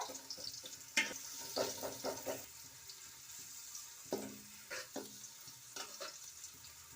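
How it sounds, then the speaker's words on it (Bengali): Sliced onions sizzle and crackle as they fry for chicken pilaf, with intermittent scraping and clinking of a spoon stirring them in the pan, steady and close. "পোলাওর জন্য আমি বেরেস্তাগুলো ভেজে নিব, নাড়াচাড়া করে নিব।"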